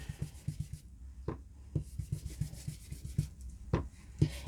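Repeated rubbing strokes of a coloring tool across designer series paper, a dry scratchy scuffing in an uneven rhythm of short passes, close and fairly quiet, with no talking.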